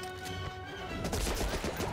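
Thompson submachine gun fire in Medal of Honor: Rising Sun comes as a rapid burst of shots that grows louder and denser in the second half, over a busy game soundscape.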